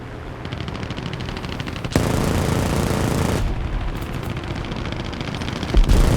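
Rapid machine gun fire from fighter planes during a War Thunder air arcade battle flown in an I-16 type 10, a continuous loud clattering burst with a denser stretch partway through and a sharp thump near the end.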